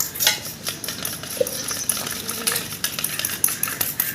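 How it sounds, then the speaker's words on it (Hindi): Food is mixed by hand in a dish with a spoon, giving close, continuous scraping and clinking of utensil against the bowl in irregular strokes. "अभी मैं इसको अच्छी तरीके से मिक्स करूँगी"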